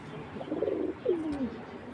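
A caged Giribaz pigeon coos twice in low, drawn-out phrases, the second a falling moan, close by over faint room noise.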